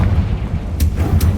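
The Confringo fire spell blasts in Hogwarts Legacy with a heavy, rumbling boom and two quick sharp bursts over a dense low roar, loud and close.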